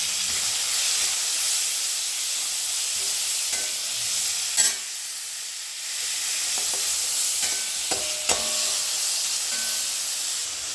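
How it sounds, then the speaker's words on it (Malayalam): Tomatoes and curry leaves sautéing in a pan give a soft, continuous sizzle and hiss, with occasional light clinks and scrapes of stirring and a brief dip in the frying noise midway. "നമുക്കിതൊക്കെ ഒന്ന് വഴറ്റിയെടുക്കാം."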